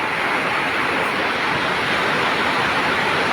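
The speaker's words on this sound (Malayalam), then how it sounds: "ഭാരതപ്പുഴ കര കവിഞ്ഞൊഴുകിക്കൊണ്ടിരിക്കുകയാണ്" Loud, steady roar of the flooded Bharathapuzha river overflowing its banks, a dense continuous wash with no pauses and no voices, close by and filling the whole clip.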